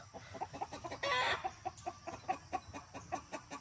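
A five-month-old white kelso gamefowl rooster clucks in a rapid, steady series of short calls, fairly close, with a brief burst of broadband noise partway through and no talking.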